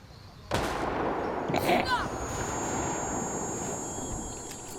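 A frag grenade going off in the video game Ghost Recon Wildlands: a sudden loud blast followed by a long rumbling roar that fades slowly, with a faint voice underneath.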